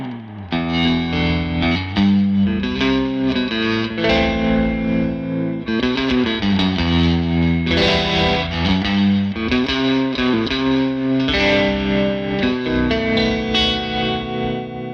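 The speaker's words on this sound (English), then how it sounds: "high levels of reverb and tremolo is quite an evocative Americana type sound" A Victory guitar amplifier plays electric guitar chords and melody drenched in heavy reverb with a pulsing tremolo wobble, continuous and prominent for the whole stretch.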